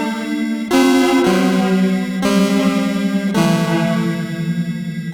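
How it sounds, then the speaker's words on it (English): Guitar run through the Soundtoys Spaceblender plugin with a harmony effect, producing sustained synth-like chords that change a few times, heard clearly and alone. "we're gonna use a guitar to sound like a synth"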